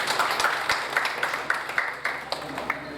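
Audience at a newspaper's 35th anniversary event applauding in a steady burst of clapping, moderately loud and filling the room, with some background voices.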